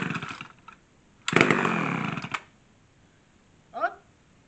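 A McCulloch Super XL chainsaw being cold-started, with a short burst of rough two-stroke engine firing that sputters out, surrounded by handling noise and a brief rattle near the end.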